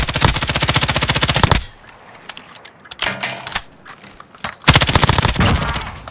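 Automatic gunfire in Call of Duty Modern Warfare, two long rapid bursts of shots with a quieter stretch of scattered sounds between them, loud and close.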